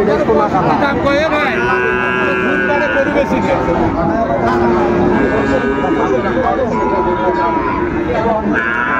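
Sahiwal breed bulls at a busy Dhaka cattle market, several loud nearby moos and long lowing calls over a dense hubbub of crowd voices and talk.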